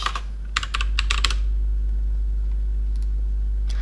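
Close, clicky keystrokes on a computer keyboard come in a quick flurry as TeX code is typed, then thin out to a few isolated taps over a steady low hum.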